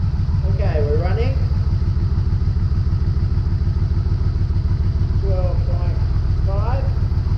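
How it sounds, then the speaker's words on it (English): A Yamaha Vmax motorcycle engine idles steadily and loudly up close, a continuous low rhythmic throb running throughout, with someone talking briefly over it. "So now let's start the bike up and see what happens."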